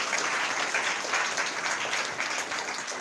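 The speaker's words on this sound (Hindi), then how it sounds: "जोरदार ताली बजाओ परमेश्वर के लिए।" Church congregation at a Sunday meeting clapping loudly together, a steady dense burst of applause filling the room for a few seconds.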